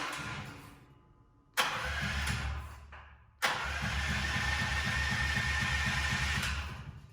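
A 440cc golf cart engine with its spark plug removed cranks in two bursts with a short pause between them, each one a rapid rhythmic chugging from the starter. The sound is close and loud, and no one speaks.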